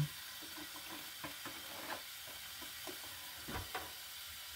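Oil heating in a pan before cooking squid adobo, a faint, quiet sizzle and hiss with several soft stirring scrapes and light knocks scattered over a few seconds, close by, no voices.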